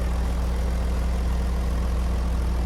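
A Komatsu WA470-6 wheel loader's six-cylinder diesel engine idles steadily with a deep, even low rumble and constant hum, close and fairly loud, with no voices.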